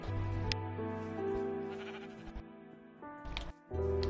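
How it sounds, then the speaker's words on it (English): Sheep in a video game give several drawn-out bleats in quick succession, close and clear, the wavering calls overlapping with brief pauses between them. "Okay, there's some sheep."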